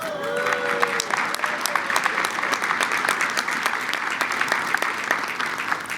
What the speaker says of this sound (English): I'm going to assume that applause was for my wife.